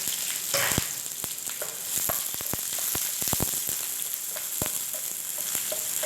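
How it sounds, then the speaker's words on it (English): Onion dropped into a hot pan for mushroom masala, a continuous bright sizzle with scattered sharp crackles and pops, close and steady throughout. "When hot, we will add onion to this."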